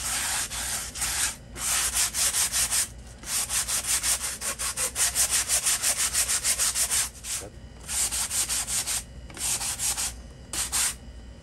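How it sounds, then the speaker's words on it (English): Steady back-and-forth rasping of a sanding block scrubbing residual glue off the wood of a 1935 Philco Cathedral radio, loud and close, in rhythmic strokes with brief pauses between runs. "I'm just going to run over it a little bit with my sanding block"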